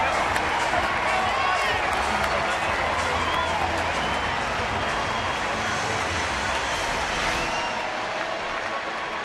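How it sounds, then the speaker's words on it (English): Broad, steady roar of a baseball crowd at a Mets-Giants game in San Francisco, cheering after the Giants score, with whistles and shouts rising out of the din and some talk mixed in. "And finally, something for these fans to cheer about."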